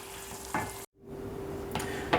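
Red-coloured caramel sizzling in a pan as dye and water are stirred in, a steady frying hiss with a few louder stirring swishes and a brief dropout midway.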